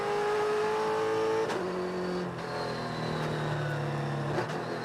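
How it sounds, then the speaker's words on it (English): A Trans Am race car engine runs on the Road Atlanta track during a race, a loud sustained howl with shifting pitch as it accelerates and changes gear, with no talking. "Mike, I'll let you listen to the sound of the engine or the sound of the car"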